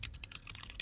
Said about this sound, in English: let's start typing correctly if we can do that